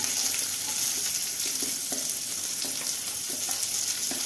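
Onions for a green mango chutney fry in a pan with a dense, steady sizzle, while soft, regular scrapes of stirring recur throughout, close up and with no talking.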